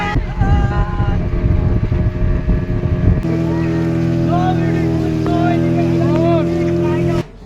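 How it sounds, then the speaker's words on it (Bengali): A motorboat moving slowly across the sea off Digha. Loud engine drone and rushing wind noise fill the first half, then the motor settles into a steady humming tone with faint voices over it, before the sound cuts off. "তো আমাদের আবার বোট আমাদের তার নিজের গতি অনুযায়ী আস্তে আস্তে এগিয়ে চললো।"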